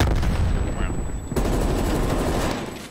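Shotgun fire and explosions in a hardcore-mode shooter video game, loud dense bursts of gunfire with one sharp blast midway, close and continuous, no words spoken.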